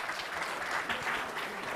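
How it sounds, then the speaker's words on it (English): Quiet, steady applause from an audience at a startup ecosystem panel discussion, a dense patter of hand claps sounding fairly distant and running for the whole moment with no voices over it. "Can we give a big round of applause?"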